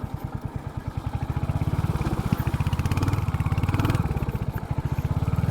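A Royal Enfield Hunter 350 motorcycle ridden off-road through a small water crossing: a rapid, steady single-cylinder thump close by, swelling slightly as the throttle opens, with faint splashing and clatter mixed in.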